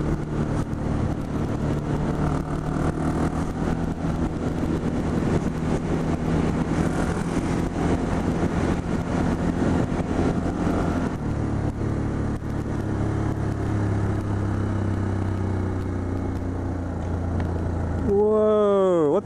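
A KTM 690 Duke motorcycle rides a winding road in the Cameron Highlands, its engine droning steadily under heavy wind rush, then the pitch shifts as it pulls out to overtake and revs rise sharply at the end.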